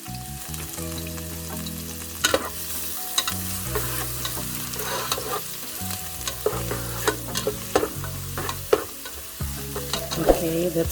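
Minced garlic fries in extra virgin olive oil with a steady, close sizzle, broken by sharp clinks of stirring, while tonal background music plays underneath.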